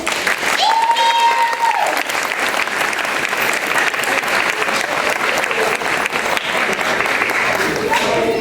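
Audience at a third-grade school event claps steadily and loudly for several seconds, a dense, even roar of hands with a brief tonal squeal near the start.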